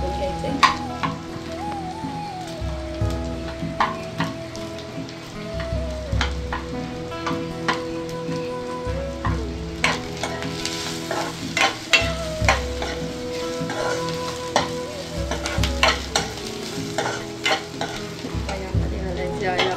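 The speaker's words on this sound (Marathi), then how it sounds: "यामध्ये आपण घालायचं आहे थोडंसं तेल घालायचं आणि त्यामध्ये घालायचे आहेत हे गरम मसाला. थोडे परतून घ्यायचे." Garam masala sautéing in a little oil in a pan, with a steady sizzle and repeated scraping strokes of a stirring spoon that continue evenly throughout.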